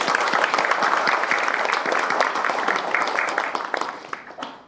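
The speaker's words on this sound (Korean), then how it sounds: "다시 한번 박수 한번 드리죠." Audience applause at the anniversary ceremony and award presentation of the Korea University journalists' alumni association, a dense, loud, steady clapping from a crowd that holds for several seconds, then fades out at the end.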